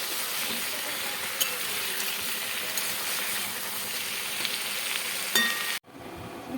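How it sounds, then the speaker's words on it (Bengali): Cauliflower and potato with a little turmeric frying on a low gas flame in a home kitchen, a steady soft sizzle with a few light clinks of a utensil, ending abruptly in near silence. "ফুলকপি আলুটা দিয়ে দিচ্ছি আর দিচ্ছি সামান্য একটু হলুদ যাতে কিনা কালারটা খুব ভালো আসে ভালো করে আমি এটাকে ভাজতে হবে"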